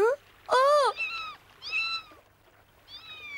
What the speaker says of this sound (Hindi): बेचारी छोटी सी बिल्ली।